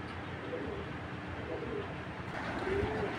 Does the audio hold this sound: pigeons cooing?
yes